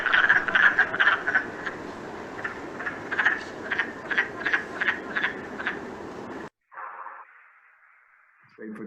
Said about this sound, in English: Spadefoot toad